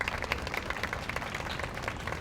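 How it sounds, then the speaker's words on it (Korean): Warm applause at a memorial reading event for the Itaewon tragedy, a moderate patter of hands clapping at a steady rate from a modest audience. "예람님께 다시 한번 따뜻한 박수 부탁드리겠습니다"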